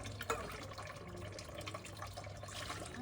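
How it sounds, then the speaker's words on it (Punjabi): Tea dishes and plastic water bottles scrubbed and rinsed under running water outdoors in a Punjab village, a faint, steady trickle and splash with a light clink near the start, no talking. "ਹੁਣ ਆਪਾਂ ਮਾਂਜਦੇ ਚਾਹ ਵਾਲੇ ਭਾਂਡੇ ਨੇ ਟੀਪ ਇਹਨਾਂ ਦੇ ਪਾਣੀ ਵਾਲੀਆਂ ਬੋਤਲਾਂ"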